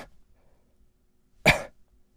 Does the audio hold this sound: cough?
yes